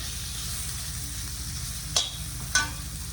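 Prawns cooking with chilli powder in a pan give a steady, low sizzle throughout, with two brief sharper scrapes or clinks near the end; no one speaks.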